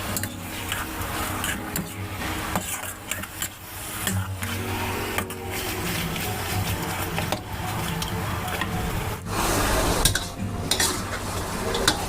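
Pork belly stir-fried in a pan for Thai braised eggs and pork, a steady loud sizzle with repeated scraping and clinking of a utensil against the pan, close up and without voices.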